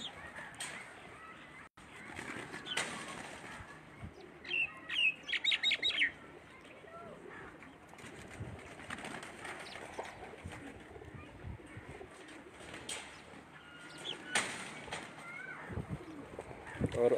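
Migratory pigeons on a rooftop keep up a mix of soft cooing and bright chirps in steady layered bursts. Several calls stand out nearby, with a louder run of chirping in the middle and other birds in the background.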